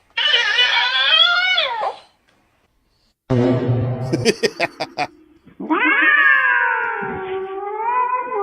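A cat meows loudly in long, drawn-out wails, with a pause and a few sharp clattering taps between cries.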